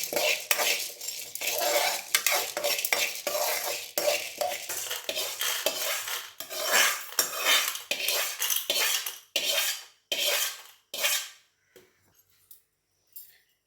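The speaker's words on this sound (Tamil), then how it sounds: "இந்த அளவுக்கு நல்லா செவக்க வறுத்துடணும்." A spatula scrapes and stirs lentils dry-roasting in a pan for idli podi. Rapid metallic strokes run steadily at first, then slow into separate, spaced scrapes before stopping.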